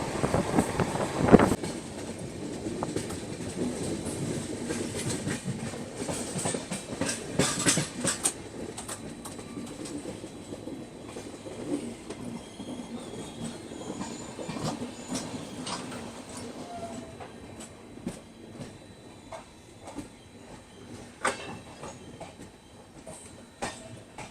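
The Poorvottar Sampark Kranti train crosses a bridge over the Brahmaputra, with steady rolling rumble and repeated metallic clacks of wheels on the span, moderately loud and continuous throughout.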